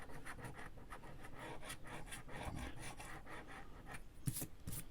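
A coin scratches across a scratch-off game card in a steady run of short, close, raspy strokes, with one sharper scrape near the end and no talking.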